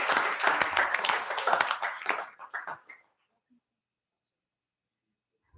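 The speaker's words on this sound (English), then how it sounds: "y'all give them a round of applause" Applause at a school board meeting: a dense burst of clapping for about three seconds, fading out and leaving near silence.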